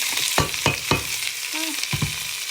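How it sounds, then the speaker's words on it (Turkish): Close sizzling of onions frying in a pan, with several sharp clinks and scrapes of a utensil stirring against the pan. "Böyle soğanı kavuralım biraz da"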